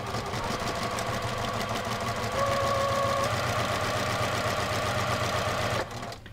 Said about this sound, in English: you're just gonna stitch straight down the seam with a quarter inch seam.